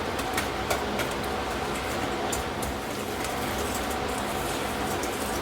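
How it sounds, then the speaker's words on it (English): Four large room-temperature eggs being whisked into chess pie filling, a dense continuous rattling churn of the whisk in the bowl with faint clicks, close and steady throughout, no speech. "we'll go ahead and get those whisked in right quick"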